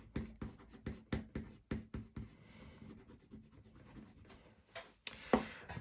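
A dark blue pencil scratching quick downward strokes on paper in a winter landscape drawing, a regular run of crisp close strokes that fades into softer rubbing, then one louder brush near the end, with no voices.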